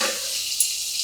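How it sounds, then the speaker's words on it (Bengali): Pointed gourd fries in a covered pan, a soft, continuous high sizzle that holds steady, with one small crackle partway through. "পটলটা এবার আমি একটু ঢাকা দিয়ে ভাজবো।"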